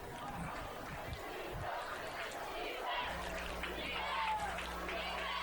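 A crowd cheers and roars at a high school football game between Goddard Eisenhower and Salina Central. The cheering is steady, loud and distant-sounding, with an announcer's voice and a low hum underneath.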